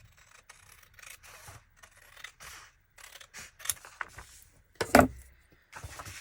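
Scissors trim paper for a handmade junk journal in a quiet craft setting. Close, soft snips and rustling paper come in scattered bursts, with one sharper cut near the end and no talk.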